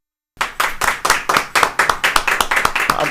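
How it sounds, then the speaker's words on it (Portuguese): Rhythmic clapping in a podcast studio greeting a pastor guest, a few people clapping close and loud in a quick, fairly regular beat that starts abruptly after a brief silence. "Palmas para ele."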